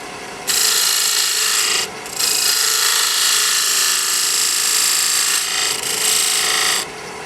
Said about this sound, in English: Now, I'm going to use a fingernail grind gouge. This is a 3/8 inch D-Way shallow flute.